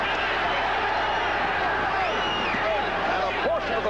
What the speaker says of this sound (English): And a portion of the crowd raises the heat on.